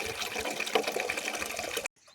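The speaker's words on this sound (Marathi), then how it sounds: "हे पहा एवढा प्रेशरनं पाणी येत आहे" Water gushing under strong pressure from a hose pipe in a village yard, a steady, dense rushing close by that cuts off abruptly near the end.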